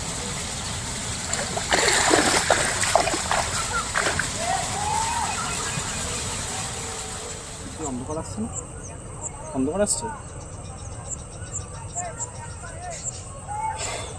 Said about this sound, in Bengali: এই যে এই জমিতে জল ছেড়ে দিলাম